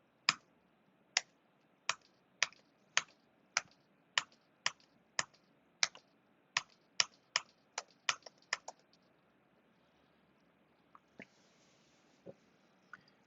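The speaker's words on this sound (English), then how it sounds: "Now I have to type the F key." Single keys tapped on a computer keyboard during a Typing.com lesson, about sixteen crisp, evenly spaced clicks at close range, then a brief pause and a few scattered softer clicks in a quiet room.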